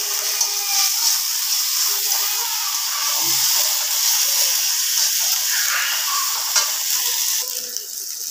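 Ginger garlic paste sizzles and fries in hot oil in a wok for a home-cooked potato and fish curry, a steady close hiss and crackle with occasional stirring scrapes and no talking.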